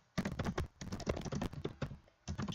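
Fingers type quickly on a computer keyboard, close up, with dense bursts of clicking keystrokes separated by brief pauses, and no talking over them.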